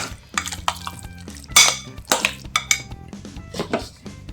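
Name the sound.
spoon mixing hot mashed sweet potato with cornflour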